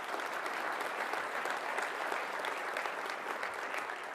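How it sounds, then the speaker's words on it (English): An audience applauds visiting mayors at a State of the City address in Bettendorf, a dense and even wash of many hands clapping at once that holds steady throughout. "Let's give them a round of applause."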